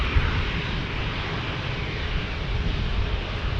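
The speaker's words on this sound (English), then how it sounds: "this Cessna Citation Latitude is heading to Phoenix" Cessna Citation Latitude business jet at San Diego airport, a steady broadband engine roar heard at a distance, holding constant throughout with no voices.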